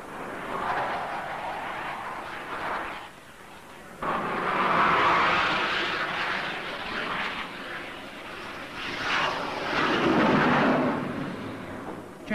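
A jet aircraft engine roars and swells as it throttles back on approach to an aircraft carrier, with F-4 Phantoms on deck, a steady loud rushing whine rising and falling with no talk.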